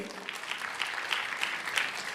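A church congregation claps during a sermon, a short burst of scattered, fairly close hand claps with a busy texture and soft background murmur.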